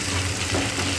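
Chopped tomato hits a hot pan with spices, giving a steady close sizzle and frying hiss that runs continuously for about a second with no voices.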